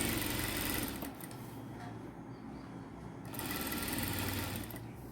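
A sewing machine stitching lace onto a dupatta, its motor whirring loud and close in steady runs with a brief slower stretch in the middle, and no talking over it.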